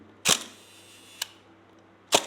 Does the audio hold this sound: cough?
no